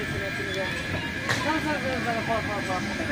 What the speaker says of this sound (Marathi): संस्थानातर्फे चालवली जाणारी ही छोटीची ट्रेन